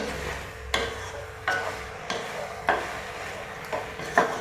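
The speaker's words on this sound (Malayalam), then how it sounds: "കുറച്ച് കറിവേപ്പിലയൊക്കെ ഇന്നിട്ട് ഇളക്കി" Mango curry with curry leaves stirred in a pan, a spoon scraping through it in about six separate strokes, close and moderately loud, with no talk over it.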